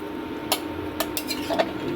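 Chicken curry with spices being stirred in a pot: a few sharp metallic clinks of a spoon against the pot at irregular intervals over a low kitchen hum.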